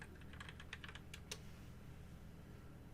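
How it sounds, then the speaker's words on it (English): Keys on a computer keyboard clatter in a quick, uneven burst of taps, faint and close, then trail off into quiet room hiss. "I'm typing Persona 5 on Switch"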